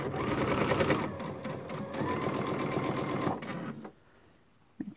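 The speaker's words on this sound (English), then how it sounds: "I got my walking foot on today. And I'm just going to sew 1/4 inch." A sewing machine with a walking foot stitches a quarter-inch seam on a Christmas stocking, a steady close rapid whirring chatter for about four seconds before it stops and goes quiet.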